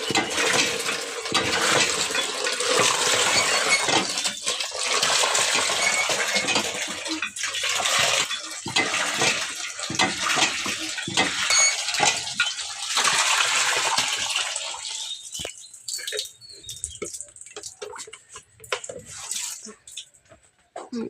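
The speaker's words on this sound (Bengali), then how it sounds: "এখানে আমি কিছু গাছে পানি দিয়ে রাখি" Tap water gushes steadily onto plants for a long stretch, a loud broadband splash with dripping and trickling that fades and thins out toward the end. No one speaks.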